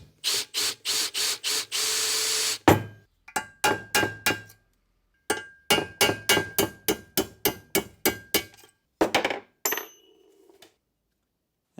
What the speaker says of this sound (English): We need to drill those rivets out to get the mud shield out and also the oil seal.